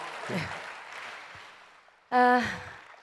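Audience applause closing a Korean forum talk, rising abruptly as a loud burst of clapping from a hall crowd, then gradually thinning out, with speech before it.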